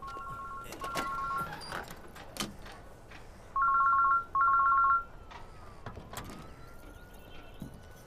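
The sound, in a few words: mobile phone ringtone ringing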